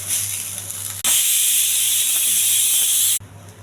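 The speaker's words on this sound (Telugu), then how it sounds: "పుదీనా అండి, పుదీనా కూడా బాగా వేగాలి" Fresh mint frying in a pan for a Telugu green-pea stir fry, hissing loudly and continuously, close up, with the sizzle cutting off abruptly and surging back once before dropping off again.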